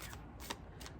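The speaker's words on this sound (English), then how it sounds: "Give this a shuffle" Tarot cards being shuffled, a quick riffling flutter lasting about a second, close and soft.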